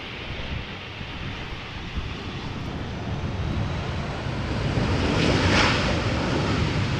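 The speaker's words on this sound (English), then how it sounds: "This is what you would call a typical KLM landing, keeping up the speed, taking a later exit" A TAP Air Portugal Airbus A319 lands at Amsterdam Schiphol in crosswind conditions, its engine roar swelling steadily louder over gusty wind noise.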